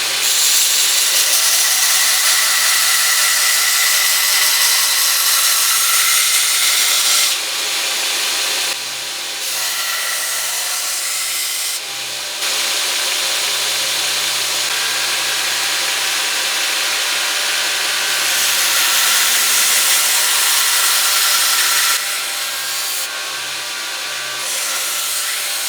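Belt grinder grinding the bevel on a multi-bar billet steel knife blade, a loud continuous high-pitched abrasive hiss with brief dips as the blade is lifted, close and steady with no talking.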